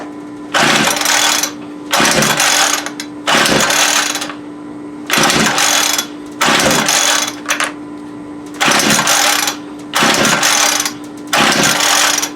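A Homelite UT33650A 26cc string trimmer being pull-started without catching: eight rhythmic bursts of recoil-cord cranking and sputtering, each about a second long and separated by short pauses, loud and close over a steady background hum.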